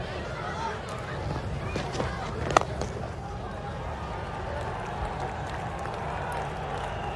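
A packed cricket crowd at Old Trafford during a 1996 England versus Pakistan one-day international claps warmly, a broad, distant wash of applause under a commentator's voice, with one sharp knock partway through.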